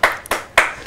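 A few sharp hand claps in quick succession, close and crisp, with no voices.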